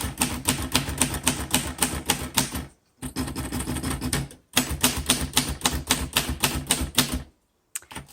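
Steady bursts of key strikes from a 1948 Royal Quiet Deluxe portable typewriter, clacking loudly and closely in a fast rhythm with two short pauses, with no voices.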